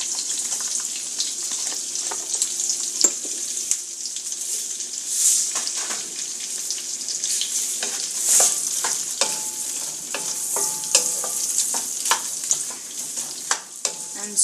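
A large chopped onion sizzles steadily as it sautés in a hot pan, with occasional stirring scrapes and brief pops over the continuous frying hiss; no one speaks.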